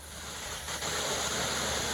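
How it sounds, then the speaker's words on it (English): A waterfall on a hiking trail in a gorge preserve, heard as a steady, broad rushing hiss of falling water, constant and fairly faint, with no voices. "And we just found the third waterfall today."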